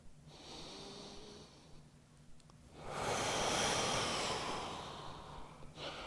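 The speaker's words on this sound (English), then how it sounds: "1 more breath." Slow, deep breathing held during a standing yoga pose in a morning routine, with a soft inhale swelling into a fuller, louder exhale in a quiet room, with no talking.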